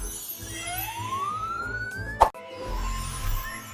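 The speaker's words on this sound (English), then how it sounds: "This is an ambulance." Ambulance siren wailing with a steady rising pitch sweep, loud and near, over a musical backing, cut off by a sharp thump near the end.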